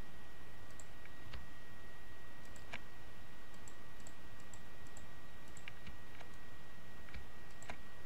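Sparse computer mouse clicks while a photo is retouched in GIMP, a series of light, irregular ticks over faint background hiss, with no voice.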